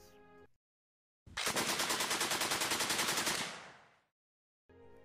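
A Browning Automatic Rifle (BAR) fires one loud, rapid fully automatic burst of evenly spaced shots lasting about two seconds, then tails off into silence, with short musical snippets before and after.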